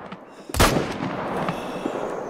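A single loud rifle shot fired at a deer in the hunting game theHunter: Call of the Wild, a sharp blast followed by a long rolling echo that fades slowly over the next two seconds.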